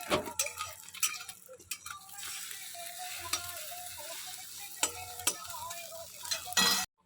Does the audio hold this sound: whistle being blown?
no